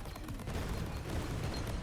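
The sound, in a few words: explosions in the video game Greedland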